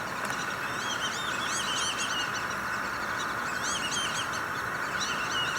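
Birds, likely waterfowl, chase each other at a retention pond by a sports facility. Repeated chirping and honking calls are heard over a constant outdoor hiss, some overlapping, at moderate distance.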